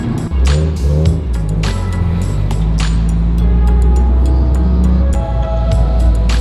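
A Subaru car rolls past on the road, a continuous close engine and tyre rumble that holds steady throughout, with several sharp clicks and knocks layered over it.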